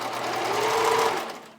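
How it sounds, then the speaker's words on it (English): A sewing machine stitching the side seam of fabric panties, a short steady motor whir of about a second and a half that fades out at the end, with no talk over it. "I'm going to run it through my sewing machine first"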